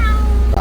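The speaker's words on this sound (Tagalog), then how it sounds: "mga pusa ng kapitbahay namin" A neighbour's cat meows once, close and loud, a short tonal cry over steady low background noise at a house under renovation in Pampanga.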